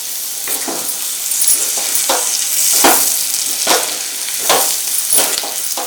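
Chicken fry with sliced green chillies is stirred in a hot pan. A loud, close sizzle runs without pause, broken by repeated scraping strokes of the spoon at a steady, unhurried rhythm.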